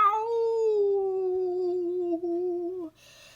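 A single long, wailing cat yowl, held for nearly three seconds and sliding slowly downward in pitch before breaking off, close and alone.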